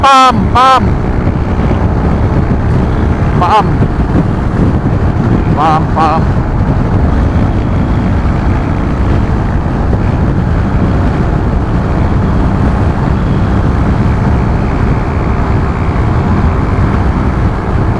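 Heavy wind roars steadily against the microphone for the whole stretch during a taxi ride on the road to Betong, Thailand, with a loud engine drone underneath and a few brief whistle-like tones early on.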